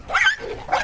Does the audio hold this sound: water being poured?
no